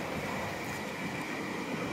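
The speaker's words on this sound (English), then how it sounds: "Bloody train." A train rumbles past beside a parked R33 Skyline GTR project car, a steady broadband roar holding at constant loudness for the whole stretch without voices.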